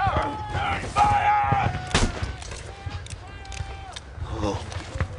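Battlefield gunfire in a Civil War battle scene, sharp shots and blasts cracking out repeatedly among shouting voices and crowd noise.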